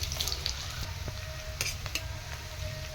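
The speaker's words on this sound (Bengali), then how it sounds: "পেঁয়াজটা লাল লাল করে ভেজে নিয়েছি" Chopped onions sizzle steadily in hot oil in a pan for Bengali mustard hilsa, a continuous close frying hiss with a few light stirring scrapes and no talk.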